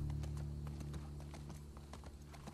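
Steady clip-clop of horse hooves at a brisk walking pace in the video game The Last of Us Part II, over a low droning hum, quiet and without talking.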